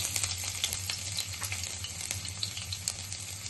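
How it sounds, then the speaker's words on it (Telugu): Chopped garlic frying in a spoonful of hot oil in a kadai for veg manchurian, a soft steady sizzle with light crackling pops, heard alone. "బాండీ పెట్టుకుని కొంచెం ఆయిల్ వేసుకుని 1 స్పూను వేడైంది. మనం ముందుగా కట్ చేసి పెట్టుకున్న వెల్లుల్లిపాయ ముక్కలు,"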